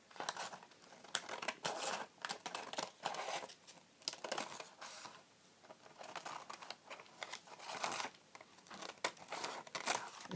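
Scissors cutting paper for a collage, close and fairly quiet snips and rustles in irregular bursts with brief pauses, no talking.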